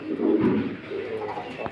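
A big-sized Danish pigeon on a pigeon farm gives a short, close, low cooing call lasting under two seconds.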